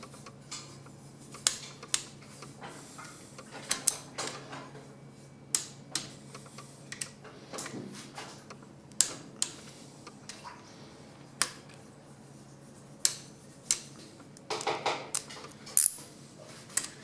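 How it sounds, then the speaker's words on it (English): Sharp, irregular clicks from a torque wrench tightening rod bolts on an LQ4 6.0 LS engine during assembly, a dozen or so distinct snaps spaced across a quiet background. "we're going to re-torque these to 15 foot-pounds and then 85 degrees"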